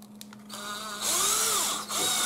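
A small power drill bores a hole in a scale model of an M755 APC. After a few faint clicks the motor whirs up, then stays loud and near with a brief dip before it resumes.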